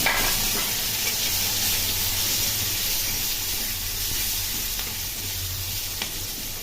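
Onions and green chillies frying in hot oil with garam masala, giving a loud, steady sizzle that holds close and unbroken throughout, with no voices.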